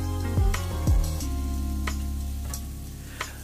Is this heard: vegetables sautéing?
yes